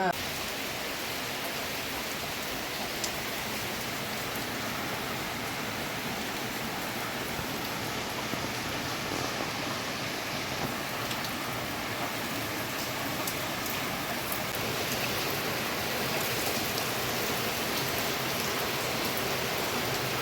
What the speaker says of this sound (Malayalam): നല്ല മഴയാണ് കൂട്ടുകാരെ കേട്ടോ.